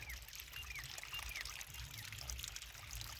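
Pumped water flows and trickles steadily through a field at low volume outdoors, a continuous gentle stream with faint bird calls in the background.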